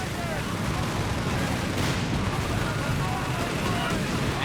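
Flamethrower tank attacking in Company of Heroes 3, a dense roaring, crackling battle din with gunfire-like bursts held steady and loud throughout, with a voice faintly present underneath.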